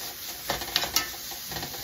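Sausage sizzles in a hot pan while it is broken up and chopped for a pizza topping, with soft crackling and a few brief scraping stir strokes close by.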